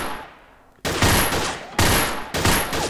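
Bursts of Allied SMG 26-40 submachine gun fire ring out in the Gun Club VR shooting game: three loud, close rapid-fire volleys separated by brief pauses, each trailing off with a fading tail.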